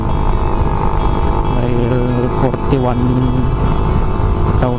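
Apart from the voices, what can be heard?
rebuilt Suzuki Raider Fi motorcycle engine running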